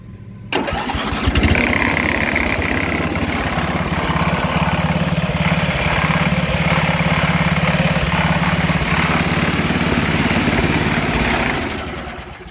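A 1981 MTD Lawn Flight riding mower engine starts up and runs steadily, a loud, close, rough mid-pitched drone that holds level for about eleven seconds before dropping off at the end.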